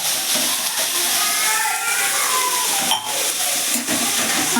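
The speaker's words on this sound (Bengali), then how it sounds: "আমি সবজিগুলো কিন্তু আমি একসঙ্গে একটু ভেজে নেবো" Potatoes, capsicum, carrot, chilli and onion fry together in a pan for chire pulao, a loud steady sizzle and hiss filling the clip without pause.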